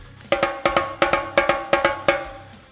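Bongo pattern played by hand for a drum solo, with the left hand circling between the high and lower bongo: a steady run of about nine crisp, bright hits in a quick rhythm, close and alone.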